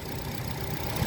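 A 2012 Nissan Grand Livina 1.5 XV with a 1500 cc four-cylinder front-wheel-drive engine idles steadily, a continuous low rumble with no talking over it.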